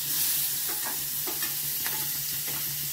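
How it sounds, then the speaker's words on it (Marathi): Onion frying in hot oil with garlic already in the pan, a dense continuous sizzle with soft scraping stir strokes close by. "आता कांदा टाकणार"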